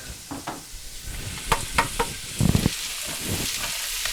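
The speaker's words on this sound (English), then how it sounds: "we'll saute them down for just a couple of minutes" Chopped onions, carrots and celery sauté in a hot pan for osso buco, a steady soft sizzle broken by several sharp stirring scrapes and clatters from the spoon, close by with no talking.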